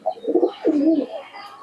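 A pigeon coos nearby, a few soft throaty rolling calls in quick succession, clear against a quiet background with no speech.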